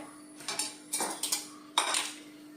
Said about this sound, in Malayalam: നമുക്ക് ആദ്യമേ സ്പൂണും കൊണ്ട് ഇളക്കിയിട്ട് കട്ടകളില്ലാതെ ശരിക്ക് നമുക്കിങ്ങനെ ഒന്ന് അടിച്ച് വെച്ച് വെക്കാം